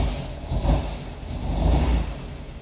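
A 1971 VW Square Back's air-cooled engine revs up as the car pulls away, two rising surges of mid-pitched engine roar with gear-change dips, close and steady throughout.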